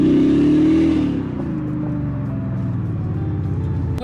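A 2020 Audi S6 TDI with an electric supercharger accelerating hard, a loud steady engine note climbing in pitch and then settling into a sustained drone as the car pulls away, with no voices.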